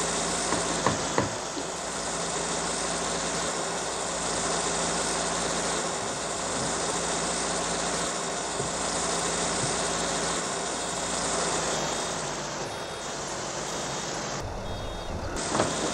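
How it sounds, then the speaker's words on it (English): In Farming Simulator 19 on the Alpine DLC, a tractor hauling a full baler labors up a hill, giving a steady, droning engine rumble under heavy load that holds for most of the stretch before cutting out near the end. "trying to pull up that hill with a full baler, it stalls"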